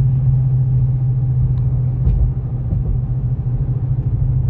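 A built 2008 Dodge Charger R/T with a 3200 stall converter idles and rolls in first gear on a cold, dusty road, giving a steady, loud low engine rumble that continues throughout with no talking.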